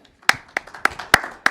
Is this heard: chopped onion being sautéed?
no